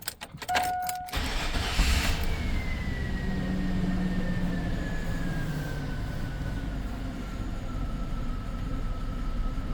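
1999 GMC engine with misfires on both banks and a leaking intake manifold, cranking with a few clicks and then catching into a steady, rough idle rumble close by.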